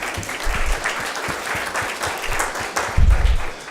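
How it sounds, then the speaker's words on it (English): Audience applause at a school district board of trustees meeting, a steady spread of many hands clapping for several seconds, swelling briefly louder near the end. "Let's give him a round of applause."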